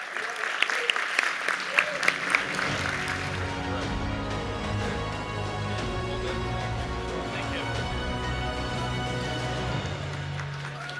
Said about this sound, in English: Let's give a big round of applause for Enes Kanter Freedom